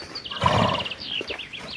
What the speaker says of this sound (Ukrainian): Це маленькі коні.